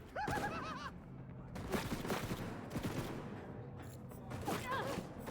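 Rapid bursts of gunfire ring out in Cyberpunk 2077 with an exotic weapons mod, several volleys at low level mixed with sharp whistling game effects.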